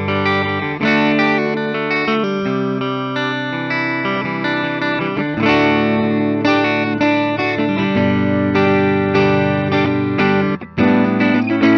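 A 2023 Gibson Modern Supreme electric guitar played on its neck pickup gives sustained chords and notes with a warm, rounded tone, effects adding shimmer, loud and close without any talking.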